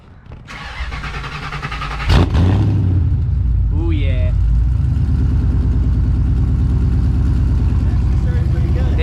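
A Mustang's engine cranks briefly, catches with a loud burst, then settles into a steady, rumbling idle that runs close and continuous, while a man exclaims over it.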